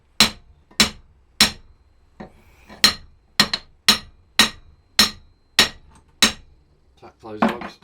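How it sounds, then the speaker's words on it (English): A hammer strikes metal in a steady series of about a dozen sharp, ringing taps, close by, tapping down the lugs of an M10 nut on a Honda Dream motorcycle, with brief pauses between some blows. "Tap those lugs down."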